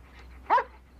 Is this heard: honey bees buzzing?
no